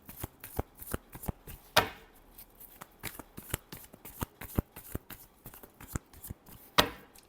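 Tarot cards shuffled by hand, a close, crisp run of rapid riffling flicks and taps with a couple of louder snaps, no voice.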